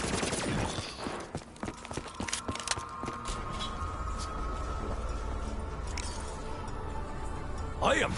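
Rapid gunfire rattles through a Black Ops 3 zombies match on the Kino Der Toten map, a dense burst of shots early on giving way to scattered game effects and a sustained tone, with a player talking over it.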